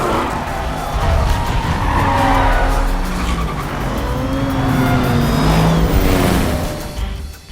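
Race cars in a film street race, engines roaring and tires squealing and skidding continuously at close range, loud throughout and fading at the end.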